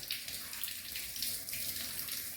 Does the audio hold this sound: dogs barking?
no